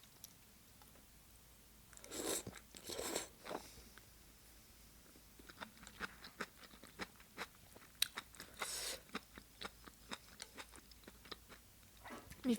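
Enoki mushrooms from a pork kimchi stew chewed close to the mouth, a soft run of wet crunches and squelchy bites with a few louder bursts, quiet and without talk.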